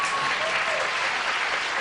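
Steady applause from a television talk show studio audience, broad and continuous, clapping throughout without a break.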